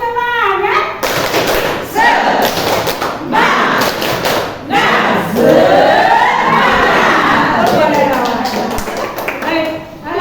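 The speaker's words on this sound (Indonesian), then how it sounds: "Ya, tepuk semangat." A class claps the rhythmic spirit cheer known as tepuk semangat, producing a loud, dense patter of hand claps in set patterns, mixed with voices chanting and calling out together throughout.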